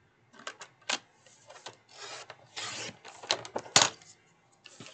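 A paper interior planner sheet is cut to size, with scattered short rasping and rubbing strokes and light taps, quiet and close, in irregular bursts separated by brief pauses.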